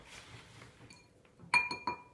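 A spoon clinks against dishes during a feeding, with a couple of sharp, bright taps near the end after quieter faint clatter.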